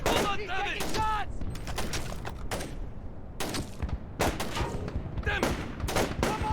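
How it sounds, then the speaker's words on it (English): Bursts of automatic gunfire in Splinter Cell Chaos Theory, loud close volleys coming in irregular clusters with short gaps, mixed with shouted voices. "We've got incoming shots!"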